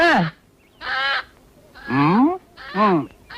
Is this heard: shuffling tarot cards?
no